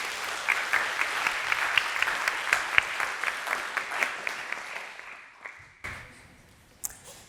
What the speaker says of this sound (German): Gebt einen großen Applaus und die Bühne gehört dir.